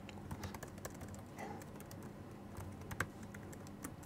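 Rapid, uneven keystrokes clatter on a computer keyboard, close and fairly quiet, with a few sharper taps standing out from the steady typing.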